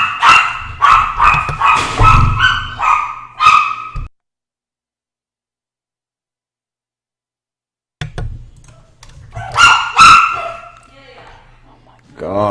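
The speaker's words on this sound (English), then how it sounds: "Dog's crazy." A dog barks loudly and close by in rapid bursts, then falls silent for several seconds before a second volley of barks breaks out.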